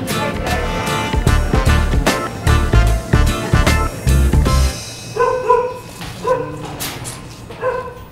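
Native aspin dogs at a crowded dog shelter bark in repeated loud bursts, then give higher yips and whimpers. Several dogs sound close together.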